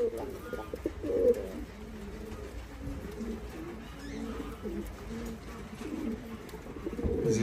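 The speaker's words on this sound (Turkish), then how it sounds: "Burada rakkas ve rostovlarımız var." Several Roller and Rostov pigeons coo in soft, overlapping low calls, steady and continuous with a faint background hum.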